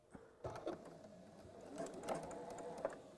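A domestic sewing machine basting a long Liberty fabric scarf on a long stitch length: short bursts of quiet, rapid mechanical stitching whir and patter, stopping and starting, close by.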